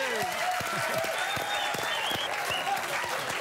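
Studio audience applauding on a cooking show, loud continuous clapping mixed with cheers and shouts filling the whole stretch.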